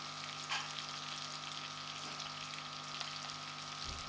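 Tomatoes frying with fried onion and garlic in a pot for chicken korma, a soft continuous sizzle with occasional light stirring, quiet and close, with no talking.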